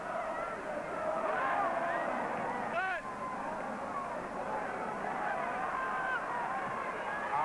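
Geese honking and squawking at a football pitch during a Wolves versus Arsenal match, a scattered string of calls over a steady roar of crowd noise, with a commentator's voice underneath.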